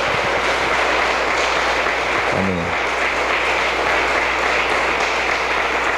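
A church congregation applauds steadily and loudly at a Christmas service, a dense wash of clapping throughout with a brief spoken word partway through.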